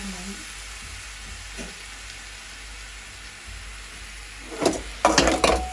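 Meat being stirred and mixed in a sizzling frying pan, a steady low hiss of frying with a few sharp scraping clatters of the spoon against the pan near the end.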